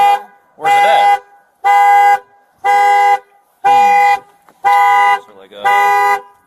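A car alarm sounds its horn in repeated loud, even honks, about seven blasts in quick regular rhythm with short gaps, close by, with faint voices in between.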